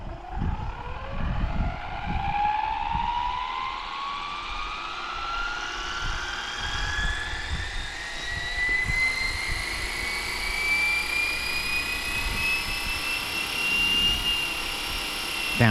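A Fly Wing Bell 206 Jet Ranger RC helicopter spins up with a steadily rising electric whine over a rotor flutter, continuous and fairly close, gaining pitch throughout with no speech.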